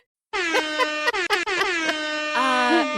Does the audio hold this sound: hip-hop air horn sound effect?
yes